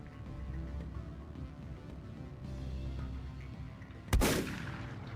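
A single loud gunshot blast from Mass Effect, a sharp burst near the end, following several seconds of low game ambience and hum.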